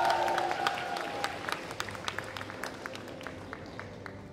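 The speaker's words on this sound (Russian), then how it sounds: "Аплодисменты для вас." Applause from the audience at a cosplay festival award ceremony, a burst of many hands clapping that thins out into scattered individual claps over a hum of murmuring crowd.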